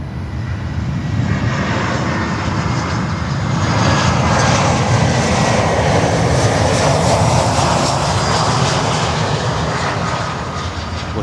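Jet aircraft in Surf City livery at Miami airport, a loud, sustained engine roar with broad hiss and low rumble that swells slightly midway, no voices.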